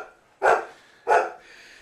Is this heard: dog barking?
yes